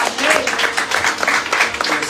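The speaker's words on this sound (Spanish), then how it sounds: "Danos fuerte aplauso al Señor." A church congregation applauds loudly during a Spanish-language worship service, a dense, continuous wash of many hands clapping close by, with faint voices mixed in.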